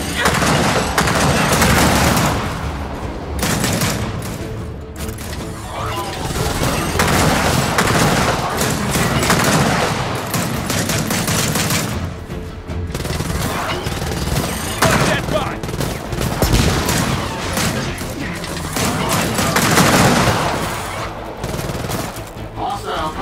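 Heavy gunfire from the video game Gears of War 4, with dense bursts of automatic fire and booming shots running continuously and loudly, punctuated by explosions, with occasional voices mixed in.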